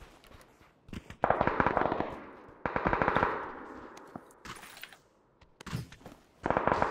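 Bursts of automatic gunfire in the battle royale game PUBG, several rapid rattling volleys separated by brief pauses, loud and close with a sharp crack to each burst.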